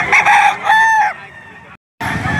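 Roosters crow loudly and chickens cluck close by at a poultry market in Lipa City, Batangas, with two crowing calls overlapping the clucking before a sudden silent break and a return of dense market noise.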